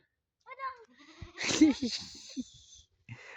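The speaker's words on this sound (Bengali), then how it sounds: "এটা এটা বেবি ছাগল" A baby goat on a small farm with chickens and pigeons gives a short, high, wavering bleat up close. People then talk loudly over and after it, and a faint second bleat follows.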